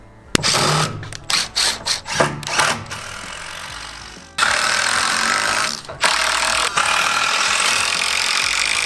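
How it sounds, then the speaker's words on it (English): Power saw cutting 2x4 lumber while building a skateboard mini ramp: several short bursts of the saw, then longer continuous loud cuts with brief pauses. "we're gonna cut open our 2x4s"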